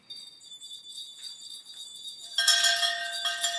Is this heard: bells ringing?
yes